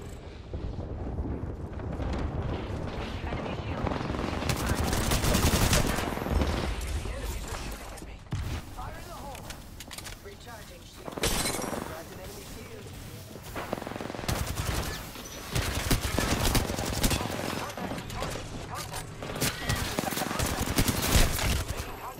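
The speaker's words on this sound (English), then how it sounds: "Opening fire on the enemy." Gunfire in the video game Apex Legends during a ranked match, dense rapid bursts and booms layered with game effects and voice callouts throughout.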